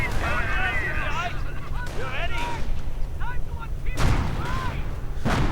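Tank cannon fire during a Company of Heroes match between Panzers and a Hellcat, heavy booms landing at intervals under a continuous battle rumble while a voice talks over the action.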